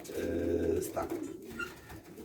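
Racing pigeons coo softly and briefly at close range, a low burbling call followed by quieter rustling.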